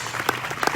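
A church congregation claps during worship at a sermon in Faisalabad, a burst of fairly close, uneven handclaps that swells at the end.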